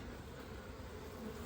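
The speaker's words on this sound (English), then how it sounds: "definitely a lot more activity around me. Lots of buzzing." Honeybees buzz continuously in a hive just opened for an early spring check, a steady, dense hum close by with no talking over it.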